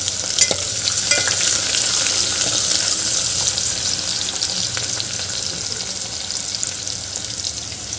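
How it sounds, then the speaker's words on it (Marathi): Onion sizzles steadily in hot oil in a pan for a spinach dal bhaji, a dense continuous frying hiss with occasional soft stirring clicks, close and without any voices. "आणि कांदा घालून घ्यायचा आहे अजून आपल्याला. आणि याला छान परतून घ्यायचं आहे."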